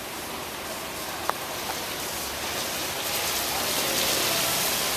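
Rain falling outside in cold, snowy weather, a steady hiss of drops on surfaces with a faint brief tick near the start, continuous and fairly loud with no talking.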